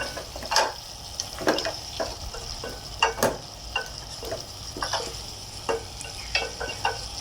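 Vegetables sautéing in a pan for a koi fish curry, a steady sizzle broken by repeated stirring scrapes and clinks at an irregular pace, close and moderately loud with no talking.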